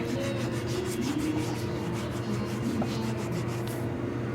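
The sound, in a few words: scrubbing a kitchen counter with a scrubbing pad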